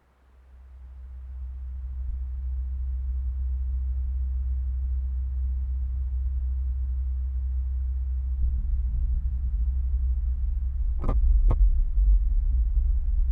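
Magnitude 3.3 Mars quake from July 2019, rendered as a deep, steady low rumbling hum that swells gradually and is broken near the end by two brief glitchy clicks.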